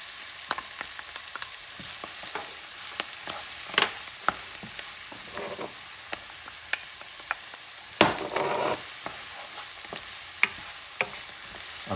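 Spices such as oregano and cayenne stirred into a sizzling pan, a quiet steady fry punctuated by crisp clicks and scrapes of the utensil, close and without speech.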